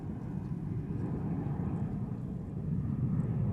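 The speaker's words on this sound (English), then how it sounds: "Hawaiian Flight 10 heading off to LA with the extra X." Hawaiian Airlines Flight 10, a fixed-wing airliner departing Honolulu airport for Los Angeles, gives a steady, broad low engine roar that stays loud and even throughout with no voices.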